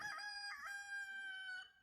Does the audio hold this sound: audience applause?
no